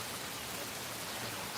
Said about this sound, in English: I'm getting rained on pretty good here